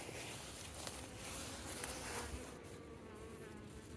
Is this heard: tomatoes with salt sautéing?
no